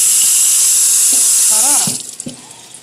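Cooked yaka mein noodles are rinsed under a running kitchen tap, a steady loud gush of water that cuts off near the end, leaving a few faint clinks and drips.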